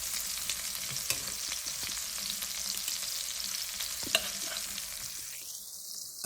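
Salmon pieces sizzle in a pan over medium heat for salmon pasta, a steady, crackling fry with occasional sharper pops and utensil clicks, close and continuous without talk.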